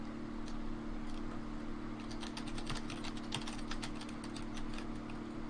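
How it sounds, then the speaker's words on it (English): Someone types on a computer keyboard during a drawing livestream, a quiet run of quick, uneven clicks and taps close by under a steady background hum, with no talking. "And Code, you really typing."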